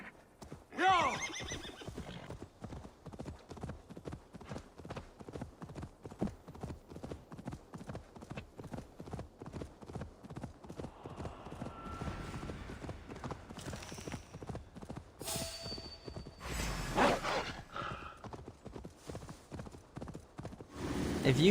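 A horse galloping in Assassin's Creed Valhalla, with steady rapid hoofbeats and occasional whinnies over a long stretch, plus a few louder bursts of game sound.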